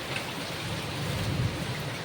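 Rain falls steadily during a kalbaishakhi-type storm in Bangalore, with gusty wind around coconut trees: a soft, even, moderately distant wash with no speech.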